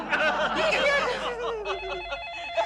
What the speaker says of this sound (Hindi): फिर से फोन आया।